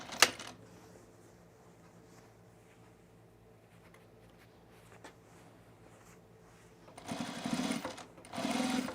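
A sewing machine top stitches a button-down shirt being made into an overshirt, with two short close bursts near the end following a quiet stretch of faint handling.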